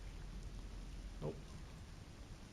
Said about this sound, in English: Yep, getting that storm out there.